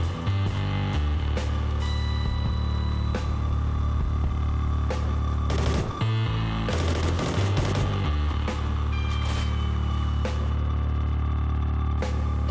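Remington R5 assault rifle firing in Call of Duty Ghosts, a steady run of shots with bursts clustering around the middle, loud and close over a constant droning game soundtrack.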